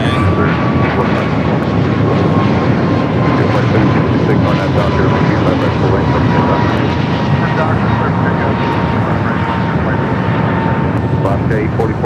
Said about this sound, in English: There's that American flight to JFK.